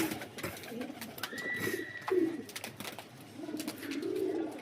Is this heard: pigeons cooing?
yes